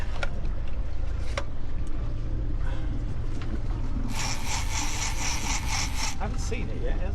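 A sailboat's engine motors steadily during an Atlantic crossing, a constant low drone under broadband wind and water wash, with a louder hissing rush midway through.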